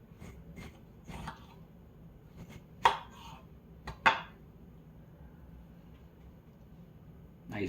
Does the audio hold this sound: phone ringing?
no